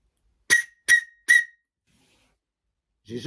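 Three short, sharp, shrill whistle blasts in quick succession, close and loud, followed by silence and then a brief voice.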